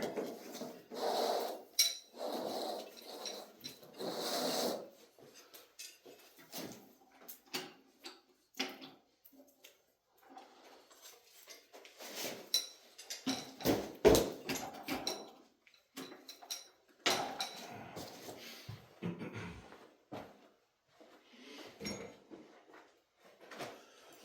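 An adjustable spanner wrench is handled against a nut while restoring a 1937 Shelby police motorcycle, giving faint, scattered metallic clinks and taps with quiet gaps between them and no talk.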